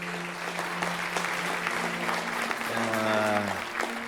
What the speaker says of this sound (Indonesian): berikan tepuk tangan buat Nelson.